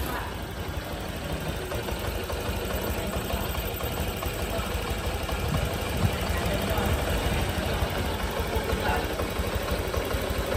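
A freshly rebuilt Honda AB 125 engine bored out to 160cc, its fuel and air mixture not yet tuned, idles loudly and continuously nearby with a slightly uneven, knocking rumble, and a voice is faintly heard over it.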